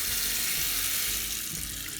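A kitchen tap runs steadily into a sink as salmon is rinsed, a continuous close hiss of flowing water.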